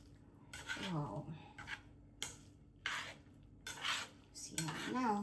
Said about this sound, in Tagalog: And then, mix it, mix.